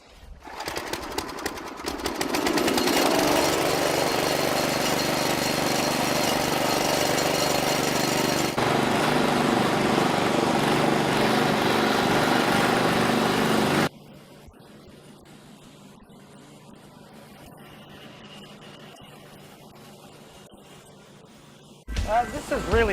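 A small-engine garden tiller running loud and close with a steady, rattling drone for most of the stretch, then dropping to a quieter idle before revving up again at the end.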